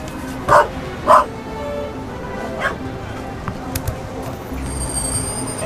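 A dog in The Raven video game barks twice in quick succession as it runs in, loud and close, followed by softer yips and whimpers over steady game background noise.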